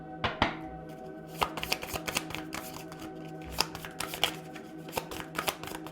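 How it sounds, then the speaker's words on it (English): Tarot cards being shuffled by hand, a close, crisp run of riffling and slapping bursts with uneven rhythm, some cards sticking together, no voices. "Cards are sticking together."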